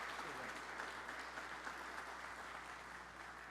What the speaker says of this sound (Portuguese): Uma salva de palmas à Sua Excelência.